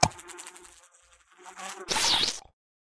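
A housefly buzzing in the video game Mitoza, a close, whiny buzz that wavers and pulses for a couple of seconds, swells into a louder burst, then cuts off to silence.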